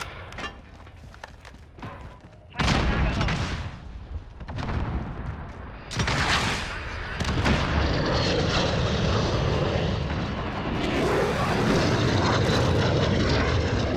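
Loud video game helicopter engine noise that swells and roars, with bursts that sound like gunfire and explosions, dense and continuous in the later part.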